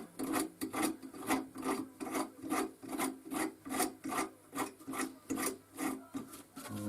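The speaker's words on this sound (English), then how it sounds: "So I'm going to wind it all in." A nut is wound along a threaded spike on a homemade welder's third hand, giving a steady rhythmic rasping scrape that repeats about twice a second, close and fairly quiet, with no voices.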